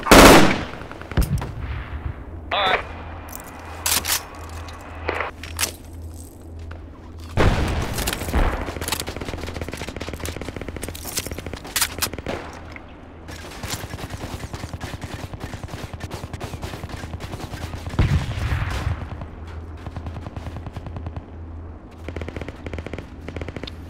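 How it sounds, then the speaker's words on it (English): Heavy gunfire and machine-gun bursts rattle almost continuously, broken by loud booms of explosions near a bridge, in the military video game Project Reality on the Vadso Flat map. "explosion just went off near the bridge."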